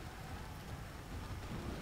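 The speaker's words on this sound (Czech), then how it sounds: "Začíná pršet." Steady rain hisses across the battlefield in Empire: Total War, a soft, even wash of noise with no break.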